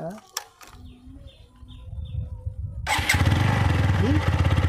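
A motorcycle engine being started outdoors: after birdsong and a few clicks, the engine catches and idles loudly and close with a steady rapid throb, with people talking nearby.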